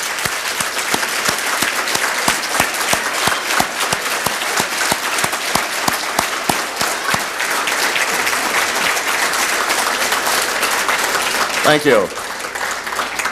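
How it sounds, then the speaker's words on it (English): An audience at a service celebration applauds new members standing as a group, a sustained wash of clapping that fades out near the end, with a brief spoken thanks over it. "let's give them all a well-deserved round of applause"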